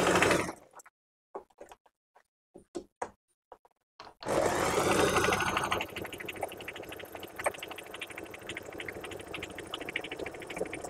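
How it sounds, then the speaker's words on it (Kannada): A Singer home sewing machine running a zigzag side stitch on fabric: a few short clicks and taps at first, then a continuous fast mechanical whir with a rapid rhythmic chatter, close and fairly quiet. "ಸೊ ಇವಾಗ ಈ ಜಿಗ್ಜ್ಯಾಗ್ ಸ್ಟಿಚ್ ಇಂದ ನಾನು ಇವಾಗ ಸೈಡ್ ಸ್ಟಿಚ್ ಮಾಡ್ಕೋತಾ ಇದ್ದೀನಿ"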